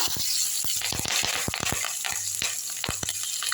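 Grated ginger frying in oil in a pan over a low flame, a steady soft sizzle with a few sharp crackles and spits scattered through, close and continuous.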